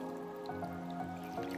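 Spring water pours steadily into a plastic bin holding cut pieces of salt cod, a continuous close, moderately loud trickling and splashing stream with no talking.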